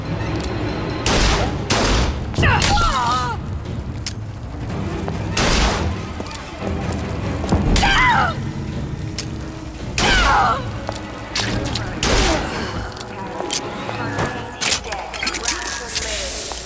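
Repeated gunfire bursts in Bioshock Infinite: Burial at Sea ring out as loud cracking volleys and booms, spaced irregularly across the stretch, with a voice talking between the shots.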